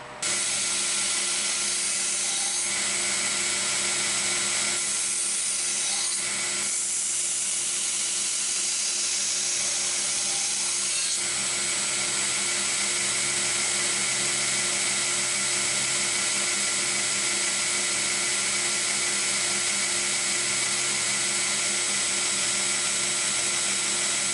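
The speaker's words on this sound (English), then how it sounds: "now we're going to a 120 to actually start putting the edge on the steel itself" A steel edge of a Case XX steak utility knife is worked on 120-grit sandpaper or a belt, giving a steady, loud, continuous abrasive whir that runs unbroken for the whole stretch with no talk.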